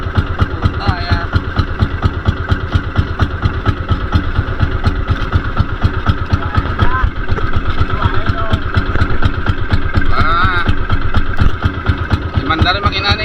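A fishing boat's engine runs steadily at a lobster net-fishing spot, a loud, continuous mechanical chugging with rapid regular pulses throughout, with faint voices occasionally heard over it.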